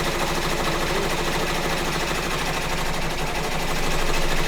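A home embroidery machine stitching a design, giving a steady, fast mechanical whir and needle chatter that stays loud and continuous throughout, with no talking.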